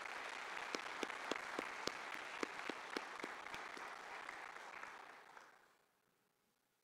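Applause fills the room at a memorial service, many hands clapping steadily with a few sharp, distinct claps standing out, then fading away to near silence toward the end.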